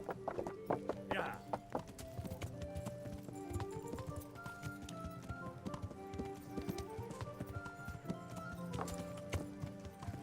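Horse hooves clip-clopping in a medieval castle-town video game, a quick steady trotting patter with a whinny early on, moderately close, under game music and speech from characters.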